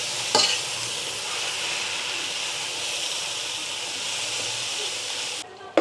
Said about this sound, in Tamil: தக்காளி போட்டுட்டு நல்லா மிக்ஸ் பண்ணி விட்டுட்டோம்னா இந்த தக்காளி கொஞ்சம் வேகணும்